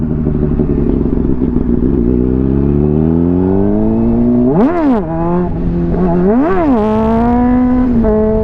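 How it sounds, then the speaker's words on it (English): A Honda CBR sport motorcycle engine idles loudly up close, then revs sharply in a few quick rising and falling bursts as the rear tire spins, before dropping back to a steady idle. "Because my tire, all it does is spin."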